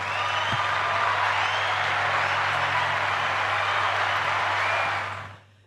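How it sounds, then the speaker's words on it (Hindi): An audience applauds the winner of a skills-versus-degree debate, dense sustained clapping from a crowd, loud and steady for about five seconds before fading out. "उनके लिए भी एक तालियां हो जाए"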